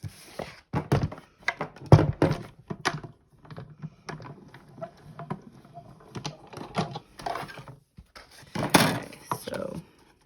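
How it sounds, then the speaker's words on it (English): Stampin' Up! Big Shot die-cutting machine cranking paper and a die through, heard as bursts of clunky mechanical thunks and ratcheting clicks in irregular groups, close and fairly loud, with a pause mid-clip before more cranking. "wind it through your Big Shot"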